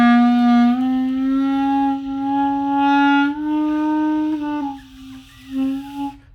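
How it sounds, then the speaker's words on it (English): A beginner-band clarinet played with a finger slightly off the holes, giving a sustained reedy tone that cracks into unstable, warbling squeaks and pitch breaks partway through, heard alone and fairly loud. "See how I'm uncovering my fingers and it's causing some weird sounds?"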